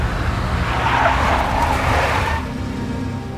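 A big black Mercedes drives through the Max Payne video game, a loud engine roar with tire noise that builds, holds, then drops off near the end.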